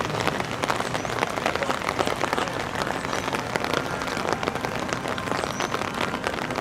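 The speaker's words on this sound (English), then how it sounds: "the rain is pouring off that tent" Heavy rain pours steadily off a tent at an outdoor theme park, a dense, constant hiss of water with no pause, fairly close and alone without talk.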